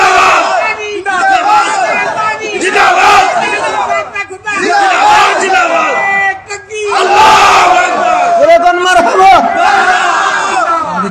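Large outdoor crowd at a religious gathering in Kaliganj, Gazipur loudly shouting takbir in unison, repeated surging chants filling the clip alone without a solo voice.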